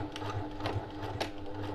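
Sewing machine stitching a French seam on a boxed zipper pouch, a steady rapid mechanical whir with rhythmic needle clatter, close and continuous without talk.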